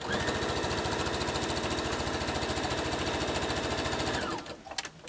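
A sewing machine runs steadily at speed, stitching a T-shirt quilt seam with a rapid even mechanical chatter, then slows and stops near the end, followed by a few small clicks.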